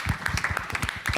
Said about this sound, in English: We should give him a hand of applause.